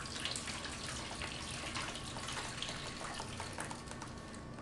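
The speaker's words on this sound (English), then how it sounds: "we'll add some more water" Water pouring from a tap into a cooking pot of tamales, a steady broadband rushing splash lasting several seconds at close range, no speech over it.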